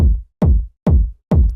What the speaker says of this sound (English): without the kick rack, the kick sounds like this.